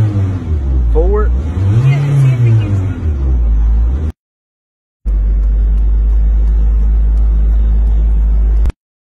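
A car engine heard in a phone video message hums and revs, rising and falling in a loud close rumble, then cuts out briefly before a second steady low idle segment.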